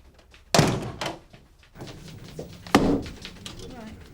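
A door thuds shut indoors at a 1990 police station, with a second knock-like bump soon after and another solid thump later, while people talk nearby.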